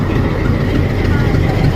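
A diesel locomotive on the Nilgiri Mountain Railway idles close by, giving a loud, steady low rumble that holds evenly throughout the short stretch, with faint voices mixed underneath.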